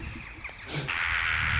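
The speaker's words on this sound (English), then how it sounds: "It's crows just hovering around the top of me." Crows caw overhead near a nest on an abandoned housing estate, one short harsh call followed by a broad outdoor rush of wind-like noise.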